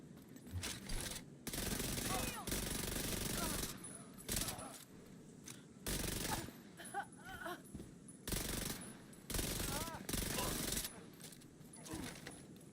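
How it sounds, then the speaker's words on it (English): SMG fire in the Crimson Desert game, loud automatic bursts about a second or two long that repeat several times, separated by quieter gaps with game sounds. "Check out how the SMG actually works here."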